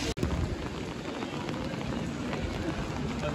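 Steady rain in a street in Verona, Italy, a dense even hiss of falling drops with a brief clatter at the start, heard alone without clear talk.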